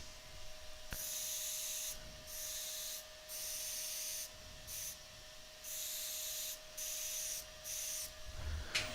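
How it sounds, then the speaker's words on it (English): A woodturning lathe spinning with a faint, steady whine underneath, overlaid by repeated soft hissing bursts that start and stop at an irregular pace, all quiet and close. "And I'm going to start the lathe up."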